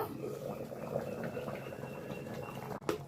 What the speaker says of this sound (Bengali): ডালটা আমার ফুটে উঠেছে